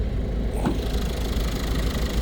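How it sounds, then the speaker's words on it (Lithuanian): A Peugeot four-cylinder car engine idles steadily, a low continuous rumble close by with an even, unbroken drone for the whole stretch. "Čia yra Peugeot variklis, 4 cilindrų."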